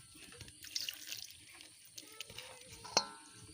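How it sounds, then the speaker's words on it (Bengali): Water being poured a little at a time into an ol pitha mixture of elephant foot yam with salt and jaggery, heard as soft, faint trickles and drips with small splashes and a sharper spill near the end. "এরপর দিয়ে দিচ্ছি জল। অল্প অল্প করে জল দিয়ে দিতে হবে।"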